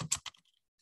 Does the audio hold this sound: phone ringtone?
no